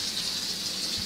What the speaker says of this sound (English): a tap running